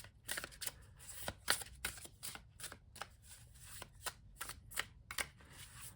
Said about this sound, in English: The sound of these cards together as well.